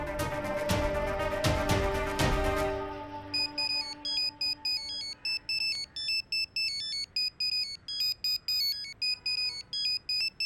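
A mobile phone rings with an incoming call in a Hindi TV drama: a dense musical burst, then a long run of bright, evenly repeating electronic tones, with no voices.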